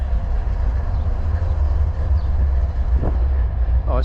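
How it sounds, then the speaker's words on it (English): A Southwestern railway train rumbles steadily past outdoors in Calgary in winter, a loud continuous low roar with faint clatter throughout and no talk. "Oh, it's a Southwestern train."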